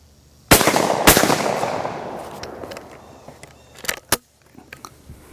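Benelli 828U over-under shotgun firing low brass loads outdoors, two loud sharp blasts about half a second apart that ring out and decay, followed by fainter clicks and clatter of the action.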